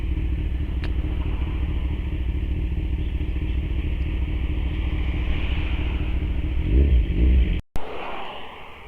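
Kawasaki Ninja 1000SX motorcycle showing a check-engine fault, its engine running with a loud, close, continuous low rumble that swells slightly near the end before a sharp break and a quieter tail.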